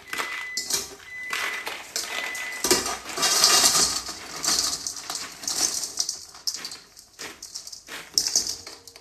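Sugar is scooped and poured into a bowl for a homemade sugar scrub, giving a grainy hiss with clinks and taps of a scoop against the dish, up close with brief pauses between pours.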